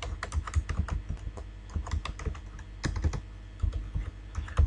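Someone types on a computer keyboard while entering text in Sigma software. The keystrokes are close and irregular, with rapid clicks and clacks and occasional heavier taps, and no speech.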